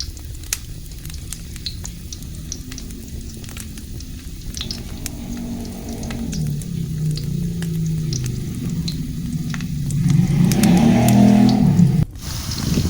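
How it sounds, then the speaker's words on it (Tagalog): Garlic sautéing in hot oil for a sardine and bok choy dish, a steady crackling sizzle with scattered pops and occasional stirring that swells louder near the end, close up without talk. "Atin na po ngayong igigisa ang ating bawang."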